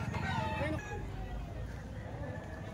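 A two-year-old ball stag gamefowl crows close by on a breeder's farm, one drawn-out call over steady background noise and overlapping voices.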